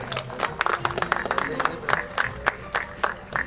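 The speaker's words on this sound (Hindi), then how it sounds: "आपकी तालियां भी बराबर बजती रहनी चाहिए" Audience applause at a Rotary Club award ceremony honoring donors, with a run of sharp claps and crowd noise over a low murmur of voices, steady and moderately loud throughout.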